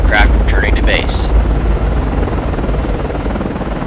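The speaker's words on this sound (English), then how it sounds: "Con, Flyco, aircraft is in the air." A helicopter in the naval combat game Cold Waters gives off a loud, steady rotor and engine drone. A radio-style voice speaks briefly over it at the start.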